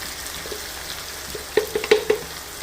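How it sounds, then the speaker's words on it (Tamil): Brinjal sautéing in oil with chilli powder over a low flame: a soft steady sizzle that turns into several louder clattering stirs and scrapes in the pan near the end. "கத்திரிக்காய் வந்து எண்ணெயிலே கொஞ்சம் வதக்கிடுங்க."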